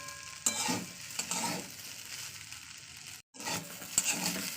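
Flattened rice (chira) stir-fried over low heat, a dry scraping and soft crackling that comes in uneven bursts of stirring, with one brief pause near the end and no voices.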